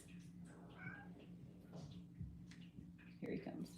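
Faint meows from a house cat come and go under a person speaking softly nearby, with a low steady hum in the room.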